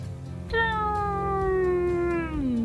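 A single human voice imitates an airplane, a sustained whining tone that slowly drops in pitch for about two seconds, close and loud.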